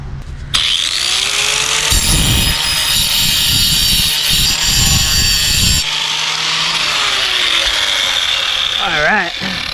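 A chainsaw chain being ground tooth by tooth with a power grinder, a loud continuous high-pitched whine with harsh bursts of scraping contact between about two and six seconds, close up and without talk.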